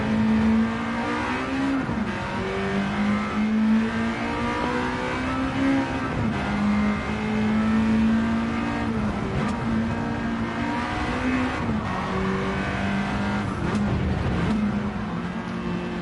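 A race car in Gran Turismo 7 drives at speed with a steady engine drone, rising through each gear and dropping at regular shifts every couple of seconds, close and continuous with no talking.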